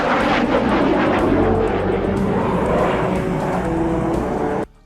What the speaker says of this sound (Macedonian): воените дејствија започнале со извиднички лет од борбен авион Су-25